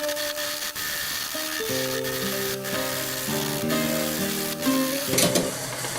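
Wood lathe turning a workpiece with a roughing gouge, giving a steady motor hum with rising and shifting tonal whine and a continuous scraping, sizzling cut noise, with a few brief stoppages and clicks.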